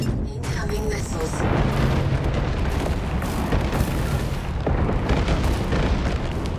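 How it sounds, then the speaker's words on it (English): Missile explosions boom and rumble continuously in War Robots video game combat, a dense, loud barrage of blasts and bursts filling the whole stretch. "Incoming missiles."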